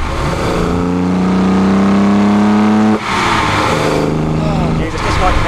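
A 1972 Holden XU1 Torana with a carburetted engine revs hard and close, its steady rising engine tone holding for several seconds before a brief break and another surge, with voices talking over it throughout.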